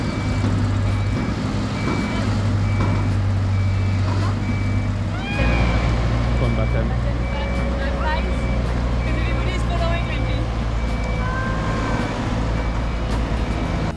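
A boat hoist approaches with a steady, loud reversing beep repeating over a continuous diesel engine rumble, a brief clank midway; voices talk faintly in the background.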